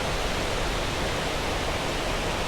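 Lumb Hole Waterfall in autumn, running high and brown, gives a steady, loud broadband roar of falling water that holds constant throughout with no voices.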